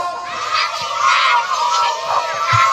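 Children and adults shout together at a first birthday party, a loud, sustained chorus of raised voices with swelling bursts over about three seconds.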